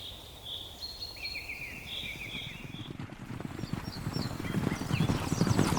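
Hooves of a Hartmann's mountain zebra clop over rocky ground in Namibia's rugged hills. Birds chirp and insects buzz at first, then the irregular hoofbeats grow steadily louder and nearer in the second half.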